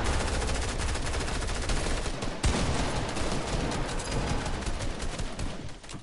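Rapid gunfire rattles almost nonstop through a Fortnite Creative match, loud and dense throughout with a heavier single bang near the middle.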